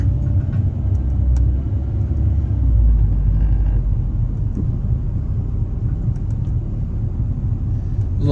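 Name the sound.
car driving through a neighborhood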